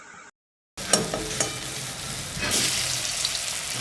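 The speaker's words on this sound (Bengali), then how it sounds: "খুব সুন্দর করে ভেজে নেবে, একটু লাল লাল করে কড়া করে ভেজে নেবে," Gourd leaf, pumpkin flower and shrimp fritters fry crisp in hot oil: after a brief silence a steady, fairly loud sizzle starts, with occasional bubbling pops and stirring clicks.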